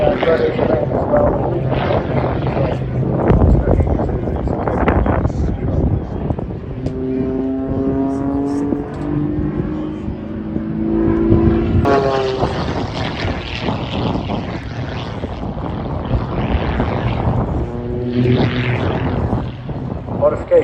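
An aerobatic propeller aircraft with a fuel-injected engine, modified exhaust and smoke system performs at the Southport airshow, its engine droning and shifting pitch as it maneuvers, with a commentator talking over much of it.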